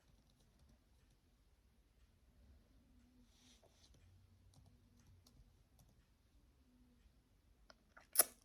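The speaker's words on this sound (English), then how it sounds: "Let me just type it as I'm speaking with you." Faint, sparse keyboard typing, a scattering of soft clicks and taps in a quiet room, ending with a louder knock.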